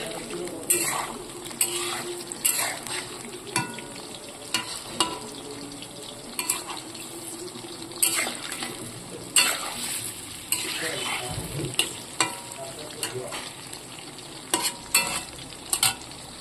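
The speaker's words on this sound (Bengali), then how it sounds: "মোটামুটি পকোড়া ভাজা এক পিঠ হয়ে গেছে" Pakoras fry in oil in a shiny wok, giving a steady close sizzle. Frequent sharp clinks and scrapes of a utensil on the metal run under it, and there is no talking.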